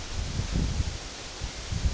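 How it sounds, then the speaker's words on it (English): Steady wind buffets the microphone with low gusty rumbles and a constant breathy hiss, no voices present. "It's not too windy. Really windy."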